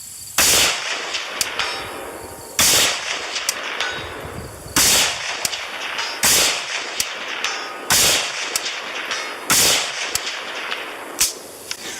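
A PSA AK GF3 AK-47 rifle fired outdoors at long-range targets, with about six sharp, loud single shots spaced roughly two seconds apart, each followed by a brief ringing decay.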